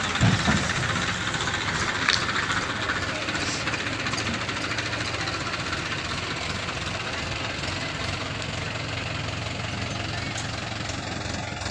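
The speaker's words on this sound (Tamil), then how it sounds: "மறுபடியும் இன்னொரு டிராக்டர் இன்னொன்று மொத்தம் இன்னொன்று போகுது" A tractor engine runs steadily nearby while hauling rice seedlings to the paddy fields, a continuous low rumbling chug that holds at an even level throughout.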